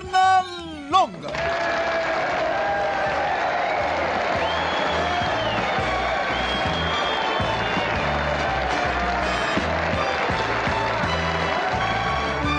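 Cartoon audience applause and crowd noise for Bugs Bunny at an awards show, a steady dense wash of clapping running under music from the start to the end after a brief opening.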